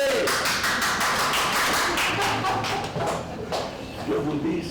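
A roomful of people at a round-table event on volunteering and diversity claps in warm tribute to someone who has died, with distinct, somewhat uneven hand claps close by and voices talking alongside them.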